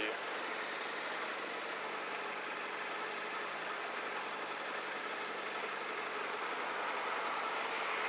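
A Suzuki V-Strom 1050 DE adventure motorcycle lugs along at low speed in a high gear, a steady droning engine rumble mixed with wind noise, continuous and fairly loud throughout.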